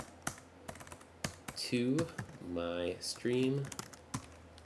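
Typing on a computer keyboard while renaming a file during a streaming server setup, sharp key clicks scattered through the clip with a person talking over them in between.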